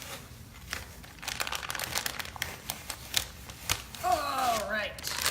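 Stencil or tape being peeled off a painted wood sign, a series of crinkly tearing and crackling pulls in short bursts, with a voice speaking briefly near the end.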